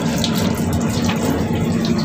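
Water gushes steadily from a tap in a train bathroom, a loud, close, continuous splashing rush with a low rumbling undertone and no pauses.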